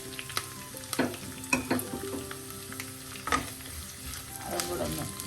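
Ivy gourd and chopped onion stir-frying in a pan, a steady close sizzle broken by sharp scrapes and clinks of a spatula stirring, with louder bursts of clatter through the stretch.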